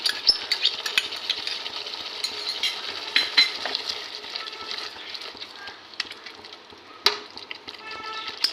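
Spices for rui fish kalia stir-fried in a pan: a steady broadband sizzle with frequent scraping and clinking of a spatula against metal, close and continuous, with no voices.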